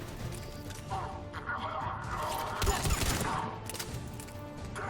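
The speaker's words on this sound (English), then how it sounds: "Let's shoot you until you explode." Gunfire and explosions in the Mass Effect 3 video game, a loud, dense stretch of rapid shooting with crashing blasts that swells to a heavy burst midway and stays busy throughout.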